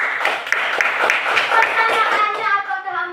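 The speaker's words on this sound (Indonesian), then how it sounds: "Iya, tepuk tangan buat sini." Hands clapping in a classroom, a group applauding in quick irregular bursts close by, mixed with children's voices and a teacher talking.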